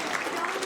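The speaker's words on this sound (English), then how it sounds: "give Dominic a round of applause, if you will." People at a Sacramento City Council meeting clap for a young player, a brief, dense patter of applause mixed with voices throughout.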